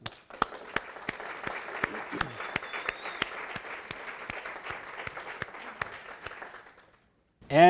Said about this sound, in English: So let's see if we can give a big round of applause.